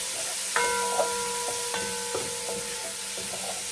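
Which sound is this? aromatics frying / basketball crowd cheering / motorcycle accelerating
aromatics frying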